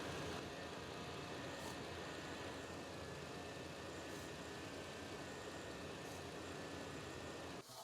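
A car engine idles roughly after throttle body and MAF sensor cleaning, a faint, low rumbling drone that stays fairly steady with slight surges, as if struggling to stay running.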